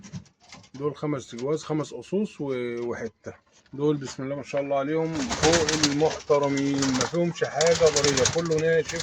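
Pigeons and squabs, carrier and French meat breeds, coo in pens beneath someone talking continuously nearby.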